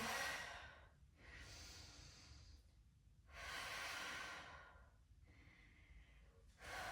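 Slow, deep breathing during a dynamic yoga flow, long airy inhales and exhales alternating in a calm rhythm, close and soft, with no talking.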